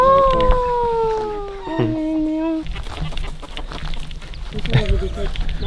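Hens cluck and squawk nearby, with a drawn-out call early on, mixed with people talking and yard noise.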